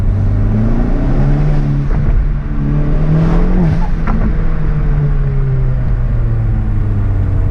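A Hyundai Veloster N fitted with an SXTH Element intake, exhaust in quiet mode, drones loudly at idle, then the engine swells in a brief rev partway through before settling back to a steady, close rumble.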